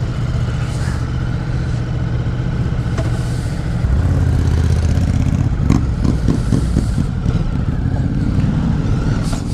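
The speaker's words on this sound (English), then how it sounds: "I'm going to test ride the new Ducati Multistrada 950" A Ducati Multistrada 950 motorcycle runs close by during a test ride, its low engine rumble swelling as the throttle opens midway, with brief clattering revs and steady road noise underneath.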